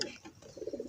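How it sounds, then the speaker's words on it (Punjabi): A pigeon coos several times in short, rhythmic low phrases, fairly close and moderately loud, with no talking. "ਬਹੁਤ ਪਿਆਰਾ ਕਬੂਤਰ"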